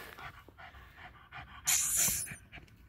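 A pure Patterdale terrier pants rapidly and steadily up close, a run of quick breaths with a brief louder snort or huff partway through.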